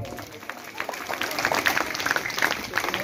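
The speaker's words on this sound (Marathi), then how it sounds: "विद्यार्थ्यांनी जोरदार टाळ्या वाजवायच्या आहे." Students clap at a primary school event in Nalwadi, Sinnar, Nashik, a fairly faint and scattered patter of many hands mixed with crowd murmur and background chatter.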